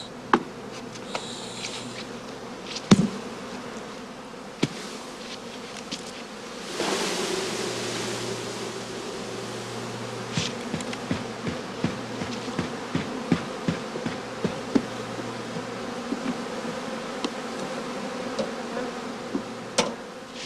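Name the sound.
honey bee colonies buzzing in heather skeps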